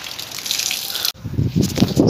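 Water gushes loudly into a farm field, a steady rushing flow that briefly cuts out and then returns as a churning, splashing pour, heard alone without talk.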